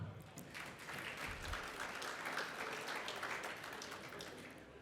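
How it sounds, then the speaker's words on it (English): Faint, steady clapping from an audience at a wellbeing talk, a soft even patter lasting the whole stretch without pause. "Give them a clap."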